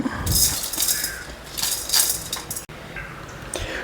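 Sesame seeds, dry coconut and fenugreek dry-roasting in a pan, giving a light, steady rattle and crackle of seeds shifting against metal, with occasional clinks of a spoon stirring close by.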